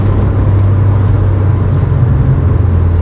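A car fitted with sticky Kenda KR20A tires drives in second gear in a line of traffic, giving a steady, close engine drone with a low hum and road noise that holds evenly throughout.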